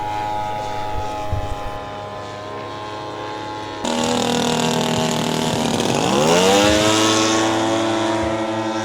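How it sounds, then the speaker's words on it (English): A radio-controlled model Fokker triplane drones overhead with a steady buzzing engine note that grows louder and sweeps downward in pitch as it passes close by. "The Fokker triplane, immortalised by the Red Baron, von Richthofen."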